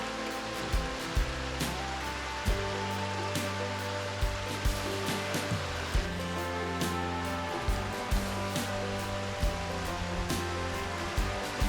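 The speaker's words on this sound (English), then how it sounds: "the walk concludes at an attractive, secluded waterfall" Secluded waterfall in a Tasmanian forest with a fern understory, a steady broadband rush of falling water heard close, with faint sporadic clicks over the constant wash.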